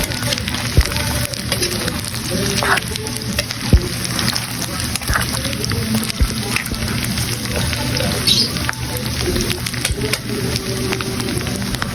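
Chicken nuggets frying in hot oil, a dense, steady crackle and sizzle close by with scattered sharp pops throughout.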